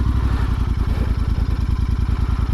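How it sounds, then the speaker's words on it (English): A motorcycle engine running close by, with a rapid, lumpy, even thumping idle that holds steady throughout the clip, with no talking. "so I'm going to start the bike up now"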